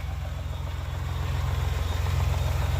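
A Ford Raptor pickup truck engine idles steadily with a deep, throbbing low rumble that grows slightly louder over a few seconds, with no voices.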